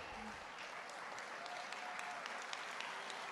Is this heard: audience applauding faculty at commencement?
yes